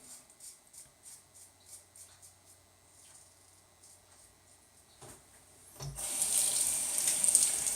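A tap runs water into a vegan shaving soap for lathering with a Gillette Aristocrat razor; faint brushing taps come first, then a steady rush of water flows for the last couple of seconds.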